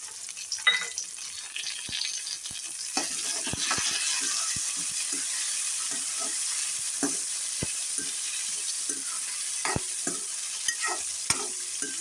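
Tomatoes sizzle steadily in a hot pan for a cowpea curry while a spoon scrapes and stirs with occasional clacks against the metal, close up and without talk.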